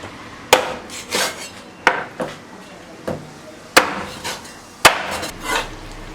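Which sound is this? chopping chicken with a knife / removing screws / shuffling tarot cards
chopping chicken with a knife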